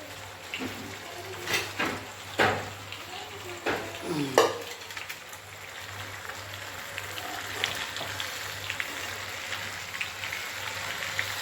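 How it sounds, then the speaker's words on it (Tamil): Anchovies fry in oil in a home kitchen, giving a soft, steady sizzle. Several clinks and scrapes of a utensil against the pan come early on, then the sizzle continues alone at a low level. "ஃப்ரை, நெத்திலி மீன் ஃப்ரை."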